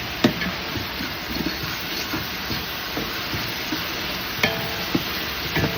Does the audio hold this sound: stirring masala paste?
yes